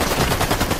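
Rapid gunfire in the Fortnite video game, a dense, loud burst of continuous shots filling the whole moment with no voices.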